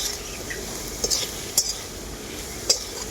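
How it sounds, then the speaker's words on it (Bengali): Ground turmeric, cumin, dried chili and coriander powders fry with potatoes in a pan, with a few sharp clinks and scrapes of a spoon against the pan over a low, steady hiss. "সব কিছু মশলা একসাথে খুব ভালো করে ভেজে নেব আলুর সাথে"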